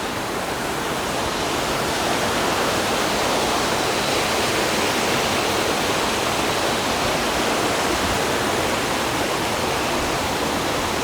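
A river rushes through a steep, high-walled gorge, a loud and constant roar of churning water filling the whole scene without voices.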